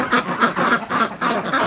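Muscovy ducks near near-freezing water on a bitterly cold day, quacking loudly and close in a rapid string of about six raspy calls with no talk.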